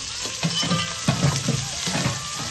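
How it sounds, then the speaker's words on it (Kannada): Spices and onions fry in a pan for a hari-yali pulao, a steady sizzle with soft repeated stirring knocks and scrapes at a regular pace, close and fairly loud with no voices. "ಸ್ಪೈಸಸ್ ಈರುಳ್ಳಿ ಎಲ್ಲ ಚೆನ್ನಾಗಿ ಫ್ರೈ ಆಗುತ್ತೆ"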